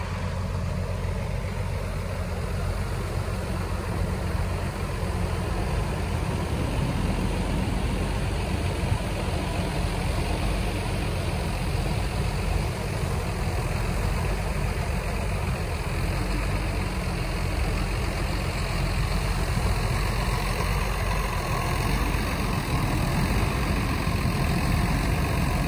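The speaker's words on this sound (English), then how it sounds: "about to bring in the tractor to load up" A heavy engine idles steadily and low throughout, a constant rumble with faint background hiss and no voices.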